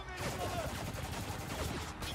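Rapid, fairly faint video game gunfire from Spec Ops: The Line, a continuous rattle of shots under shouted voices and battle noise.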